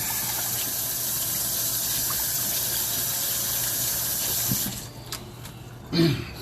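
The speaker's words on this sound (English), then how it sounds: "Wash these hands again." A running kitchen tap pours steadily while hands are washed beneath it, a close, loud gush that stops partway through, leaving a few faint clinks and a brief splash.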